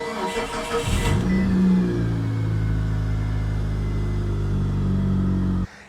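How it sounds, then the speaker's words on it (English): A Mitsubishi Eclipse engine cranks and catches, revs up briefly, then settles into a loud, uneven rumbling rough idle, a fault right after starting, before cutting off abruptly. "we have some sort of issue where the car ain't idling properly immediately after start"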